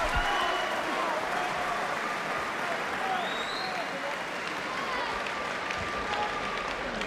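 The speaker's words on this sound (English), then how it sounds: "Crowds start to rally the Plymouth middleweight." A boxing crowd at a Commonwealth middleweight title fight, steady loud applause and cheering rallying for the Plymouth fighter, a dense continuous roar of clapping filling the arena.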